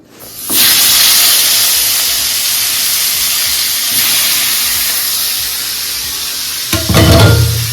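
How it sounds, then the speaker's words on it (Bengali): Fish frying in a pan at home, a loud steady sizzle and hiss that starts abruptly and holds throughout, with a brief clatter and louder spitting burst near the end. "মাছটা কোনে ভাজা হচ্ছে"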